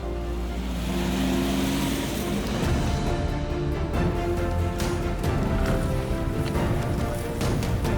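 Bentley Bentayga luxury 4x4 SUV with a 542 bhp engine driving across a field, a continuous loud engine drone and rumble with tyre and ground noise, steady throughout and close to the vehicle.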